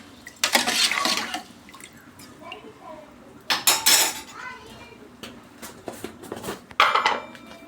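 Masala is mixed into soaked rice in a metal pot for mutton curry. Bursts of loud clanking and scraping of a spoon against the pot alternate with quieter, wet stirring pauses.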